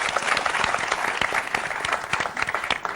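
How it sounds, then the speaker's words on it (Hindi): A studio audience at a comedy talk show breaks into loud, dense applause, many hands clapping together in a sustained burst with faint crowd noise beneath. "जोरदार ताली।"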